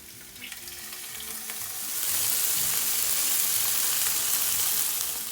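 Salmon and snap peas with red pepper flakes sautéing in a hot pan, a soft sizzle that swells into a loud, steady frying hiss halfway through and holds to the end.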